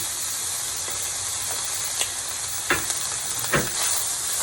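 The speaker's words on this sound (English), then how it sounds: "It's actually sesame oil that I used, and I'm just going to put all the bacon in there." Bacon sizzling in sesame oil in a pan for pork belly kimchi fried rice, a steady hiss of frying with a few soft stirring knocks near the end and no speech.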